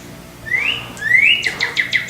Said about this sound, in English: That's a redbird.